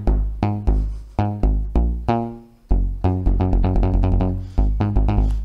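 Punchy synth bass from a song, programmed in Ableton, plays alone as short, plucky repeated notes in a steady rhythmic pattern with rich harmonics and sidechain-style pumping.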